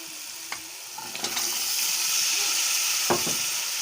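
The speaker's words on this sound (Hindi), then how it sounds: "अब मैं इसमें जो गोश्त उबाल किया है वो डाल दूँगी" Boiled meat dropped into fried masala gives a steady, close sizzle with a few sharp spatters and stirring knocks, rising slightly as the meat hits the hot pan.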